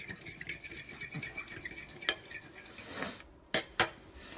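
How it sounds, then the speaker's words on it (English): A utensil stirs sugar into a seaweed salad dressing in a bowl, making quick clinks and scrapes against the side at close range, with a few sharper taps near the end. "I'm just going to mix that up. I want to get the sugar nice and dissolved."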